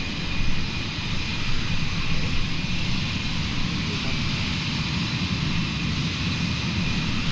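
Blue Angels jets taxiing at the Seafair 2025 airshow: a steady, loud jet-engine roar that holds constant throughout with no clear rise or fall.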